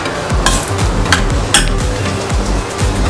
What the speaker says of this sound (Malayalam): നന്നായിട്ടൊന്ന് മിക്സ് ചെയ്തെടുക്കാം. ഒരു മീഡിയം ഫ്ലെയിമിൽ വെച്ചിട്ട് നന്നായിട്ടൊന്ന് ഡ്രൈ ആക്കി എടുക്കാം.